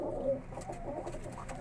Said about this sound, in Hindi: ये टोटल मेरे घर के परिंदे हैं